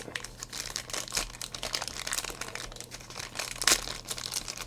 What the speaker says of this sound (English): There's that hole that makes it super easy to open. Just yoink and rip.